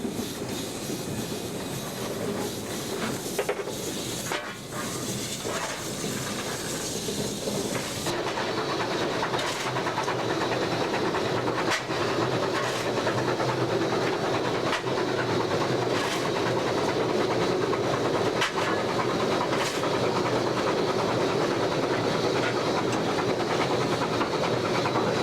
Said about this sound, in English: The train slows as the Big Pacifics ease it across the Stanwell Park Viaduct, which is still undergoing repairs.